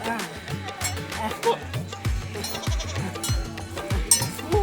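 Goats bleat repeatedly in a village setting, several short wavering cries close by, mixed with people talking in the background.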